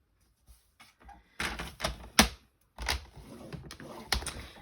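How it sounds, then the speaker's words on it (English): A paper trimmer's scoring blade draws across mint macaron cardstock, giving a series of short scraping and clicking strokes with a sharp snap, fairly close and alone with no talk. "I'm going to use my trimmer to score today, and I'm going to score at 3/8 of an inch"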